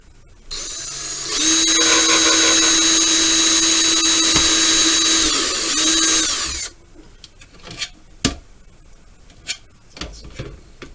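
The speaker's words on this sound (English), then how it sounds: "Might as well go through and drill these holes." A power drill boring window holes in a Monogram Battlestar Galactica Cylon Basestar model kit whines loudly and steadily for about five seconds, dips briefly, then stops, leaving faint clicks and handling noises.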